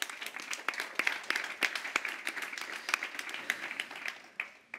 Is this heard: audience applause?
yes